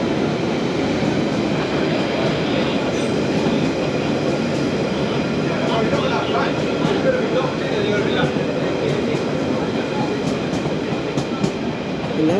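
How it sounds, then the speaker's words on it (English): A London Underground Central line train near Woodford rumbles steadily along, a dense continuous roar with faint rhythmic clatter from the wheels, fairly close and loud throughout. "the Hainault Shuttle goes into the sidings just beyond the station"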